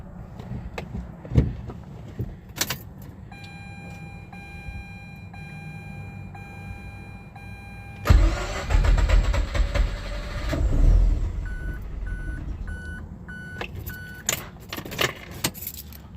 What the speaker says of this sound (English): So let's see how it starts before I change the starter.